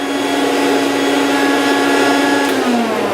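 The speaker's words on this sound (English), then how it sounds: "That's what's coming back out of your vacuum." Rainbow vacuum cleaner running steadily at close range, a loud continuous whirring drone with a sustained motor whine that dips slightly in pitch near the end, no voices.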